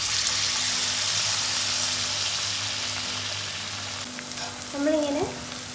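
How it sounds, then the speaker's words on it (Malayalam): Batter-coated potatoes deep fry in hot oil, a loud dense sizzle and crackle close up, steady throughout, with a brief clink of a utensil near the end. "ഇനി നമുക്ക് ഫ്രൈ ചെയ്യാം."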